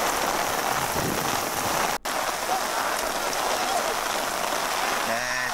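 Heavy rain pours onto a football stadium during a Kansai league match, a dense, steady hiss of downpour lasting throughout with no pauses.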